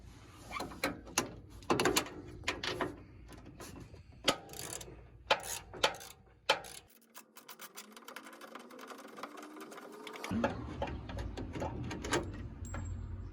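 Wrench and ratchet work on radiator nuts of a Shoebox Ford, giving a run of quick metallic clicks and clanks close by, a brief pause, then steady mechanical ratcheting.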